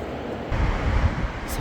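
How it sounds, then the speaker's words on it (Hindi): Flowing water in the mountains near Tawang, a steady rushing wash that swells slightly midway, heard alone with some wind-like noise. "सिर्फ पानी की आवाज़ है।"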